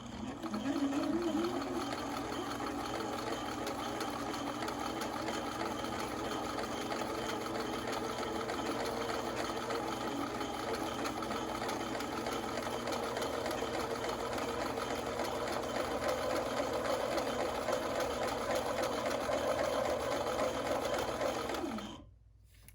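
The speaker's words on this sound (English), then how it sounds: "I'm going to go around and stitch one more time" A sewing machine runs steadily for about twenty seconds, stitching a second pass around a fabric face mask, its even mechanical whir close and continuous before it stops abruptly.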